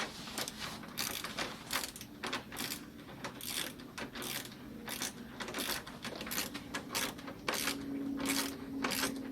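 A 10 mm socket wrench ratchets on the car battery bolts of a Hyundai Sonata, giving rapid clicking bursts in an uneven rhythm, close and fairly loud, with no one talking.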